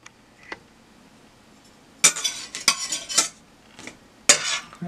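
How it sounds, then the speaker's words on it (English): Metal utensils clink and scrape against a frying pan in a few sharp bursts as tortillas warm on medium heat, with a faint sizzle between them in a quiet kitchen. "I have my frying pan, I just wanna warm up my tortillas"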